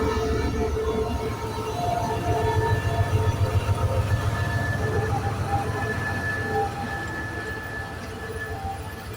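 A special tourist train departing Ayutthaya station in Thailand rumbles steadily along the tracks, its low engine drone and rolling wheels continuous, with a long tonal horn or whistle sounding over it.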